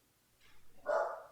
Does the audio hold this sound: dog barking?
yes